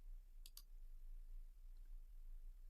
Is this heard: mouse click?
yes